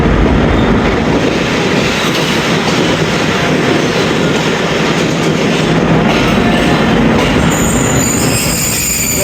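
Baba Fareed Express (38 DN) rolling along a branch line out of Lahore Junction, a loud, steady rumble of wagons and wheels with metallic squeal and faint clickety-clack throughout, no voices.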